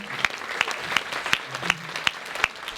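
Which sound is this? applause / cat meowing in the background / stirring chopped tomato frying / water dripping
applause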